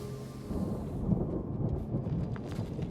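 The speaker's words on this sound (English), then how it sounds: "Oh, that thunder sounds so good." Thunder rumbles low and heavy during a rainstorm in the video game Guild Wars 2, a rolling continuous roar with rain noise spread over it and no talking.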